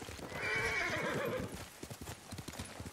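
Horse hooves clip-clop at a fast gallop with a loud whinny in the Ghost of Tsushima video game, the neigh rising over rhythmic hoofbeats before the galloping continues alone.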